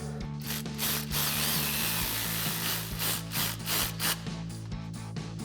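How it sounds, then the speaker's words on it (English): A ratchet with a 10mm socket tightens a bolt on a Jeep Wrangler JL's brake line mount, giving close, steady rapid clicking in short bursts with brief pauses, alone without talk. "we'll come back and tighten that back down with our 10 mil socket"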